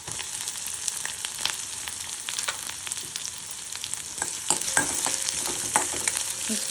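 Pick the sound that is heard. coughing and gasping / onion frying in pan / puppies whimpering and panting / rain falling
onion frying in pan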